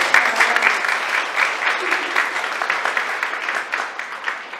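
Applause from an audience at a church community gathering, dense continuous clapping heard close and fairly loud, holding steady throughout with slight swells and no voices rising above it.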